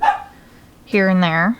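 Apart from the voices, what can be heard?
dog barking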